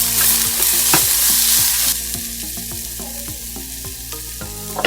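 Masala Maggi being stirred with chili powder and salt, a loud close hiss that drops partway through, leaving a softer sizzle with faint scraping and a thump at the end; backing music runs throughout.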